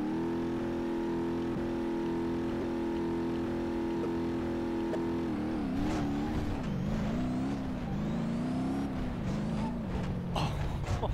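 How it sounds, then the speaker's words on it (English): A modified Stubby Bob car in the BeamNG.drive game holds a steady, loud engine drone for several seconds, then revs hard, its pitch climbing and wavering as it accelerates, with no talking over it. "Rev it up."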